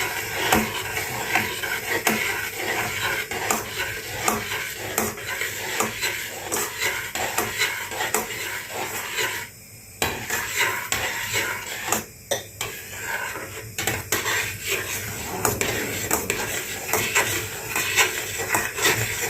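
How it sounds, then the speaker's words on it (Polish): Pudding poured into boiled milk and stirred in a pot, a steady clatter and scrape of a spoon against the metal running throughout with a few brief pauses. "Wlewamy budyń i mieszamy"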